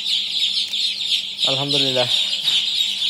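Chickens cluck inside their coop, with one loud, drawn-out cluck standing out over a constant high hiss of other birds and noise, and someone speaks briefly.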